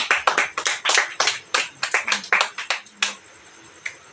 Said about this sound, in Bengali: হাততালি দাও গুড়িয়া হাততালি সবাই হাততালি দাও